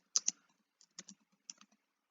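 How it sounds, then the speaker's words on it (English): Keys on a computer keyboard are tapped in short quiet bursts, a few crisp clicks in groups with short gaps between them. "I'm typing it exactly as it says in the book."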